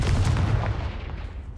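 A Confringo fire spell fired in the Hogwarts Legacy video game lands as a loud, booming explosive blast that rumbles heavily and fades out over under two seconds.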